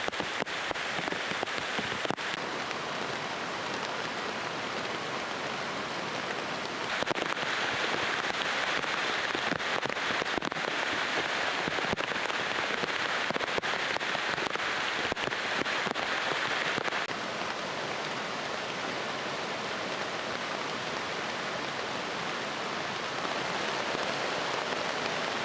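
Steady heavy rain pours down in the jungle for the whole stretch, a dense unbroken hiss with a slightly louder spell in the middle and scattered drops tapping on surfaces nearby.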